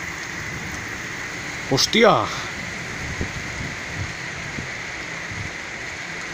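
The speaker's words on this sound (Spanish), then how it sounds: "Y otra vez a llover fuerte." Heavy rain pours steadily during a thunderstorm in Madrid, a constant close hiss on surfaces, broken midway by a brief sharp sound; a man exclaims once over the downpour.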